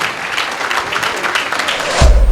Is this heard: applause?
yes